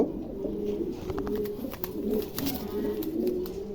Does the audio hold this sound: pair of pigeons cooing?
yes